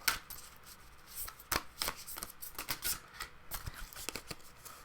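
Tarot cards shuffled and drawn by hand, a quick run of papery riffles and slaps in uneven bursts, close and fairly loud with no talking.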